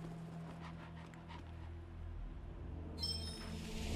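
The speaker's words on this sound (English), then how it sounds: "Oh, there's a third dog." Dog panting from the video game Wasteland 3, a steady breathy pant over a low game music bed, with a brighter shimmer of sound entering near the end.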